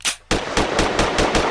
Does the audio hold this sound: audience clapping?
no